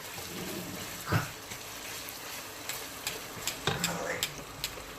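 Okra and onion frying in a pan for a curry, a soft continuous sizzle broken by scraping stirs and light clicks of a spoon against the pan.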